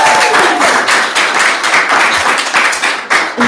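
An audience at a Christmas-themed talk event applauds, a dense, steady wash of many hands clapping close and loud, continuous throughout with no voices over it.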